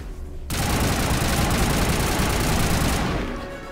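Sustained automatic gunfire in the Mass Effect video game starts abruptly and rattles loudly and continuously for about two and a half seconds, then cuts off into quieter background noise.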